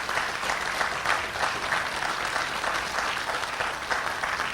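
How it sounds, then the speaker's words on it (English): An audience at the Lewis & Clark Bicentennial closing ceremony gives a steady, dense round of applause, close and even for several seconds with no voices. "So I think these guys need a huge round of applause"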